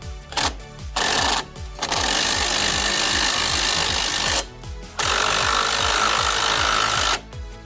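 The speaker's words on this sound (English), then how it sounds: "we'll grab the 24 mil or 15/16 open end wrench and the 21 mil socket, and we'll get these tightened back up." Wrench and socket tightening steering knuckle bolts on a Camaro during a Blackwing Precision Package knuckle upgrade, heard as close, loud repetitive ratcheting clicks in a steady rhythm, broken by several short pauses.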